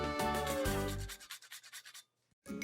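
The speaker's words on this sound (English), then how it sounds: "I'll whisk this to combine." Rapid rhythmic scraping of a whisk through flour, baking powder, salt and grated nutmeg in a bowl, close and fairly quiet, with quick repeated strokes that slow and stop, then a brief clatter.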